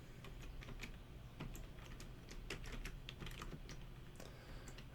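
Steady typing on a computer keyboard while writing APA-style headers, with quick irregular key clicks running continuously at a close, moderate level and no talk.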